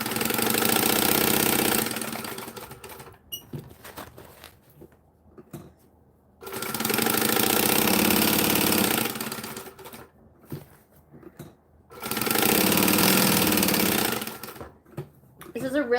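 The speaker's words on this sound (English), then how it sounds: "This is a really good place to practice your speed sewing." A sewing machine runs in three long bursts, stitching fabric pieces wrong sides together around the edge of a possum pouch. Loud steady whirring stops between runs, leaving quieter handling sounds.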